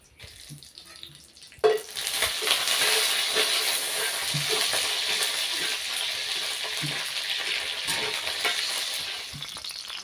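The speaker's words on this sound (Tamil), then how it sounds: "வரமிளகாய் நல்லா வதங்கிடுச்சு" Dried red chillies fry in hot oil in a pan, starting with quiet clatter and then bursting into a loud, steady sizzle that continues to the end with faint stirring scrapes.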